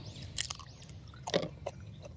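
Close, quiet crunching bites and chewing of crunchy dried squid or dried fish, a few sharp crackling bursts separated by soft mouth sounds.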